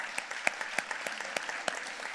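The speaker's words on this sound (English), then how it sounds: "Round of applause for that." Scattered audience applause at an education foundation visionary dinner, a steady patter of hand claps with a few sharper nearby claps standing out, moderately loud and continuous throughout.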